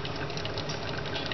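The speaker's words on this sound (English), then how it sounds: "It's the boiling noise," Chorba hamra soup boiling inside a covered saucepan, a constant muffled bubbling rumble with no pauses, close and moderately loud.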